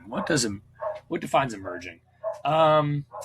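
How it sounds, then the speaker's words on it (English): Several dogs barking and yipping from a dog grooming salon on the floor above, heard as short muffled yaps between and under a man's speech. "You can hear all the dogs barking above me."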